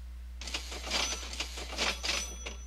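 Cash register chime from the video game Sim-U-Kraft, a quick run of bright, jingling metallic bursts in an uneven rhythm over a low steady hum, with no talking.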